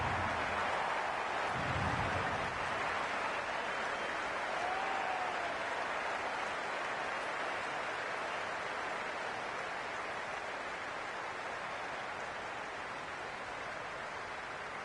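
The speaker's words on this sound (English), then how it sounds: "The crowd are making a heck of a lot of noise even before the first ball's been bowled" A cricket stadium crowd in the video game Cricket 26, Multan Sultans against Quetta Gladiators, roars as a continuous broad wash of distant cheering and noise before the first ball, with no voices standing out.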